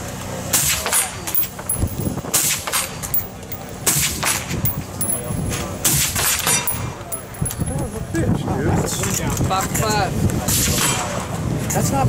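Suppressed guns fired at a target at an outdoor shooting event, a dense run of sharp muffled cracks and thumps, loud and close, with people talking over the shots.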